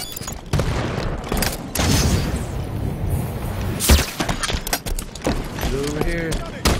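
A grenade goes off in Halo 5 among other gunfire and impacts, with a sharp, loud burst near the middle amid ongoing game noise and a dense jumble of bangs; a voice talks over the action.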